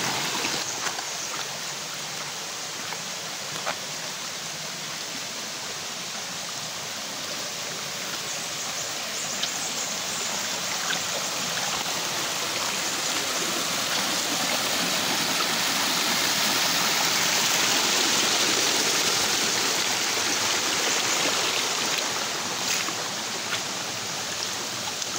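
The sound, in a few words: waterfall and flowing stream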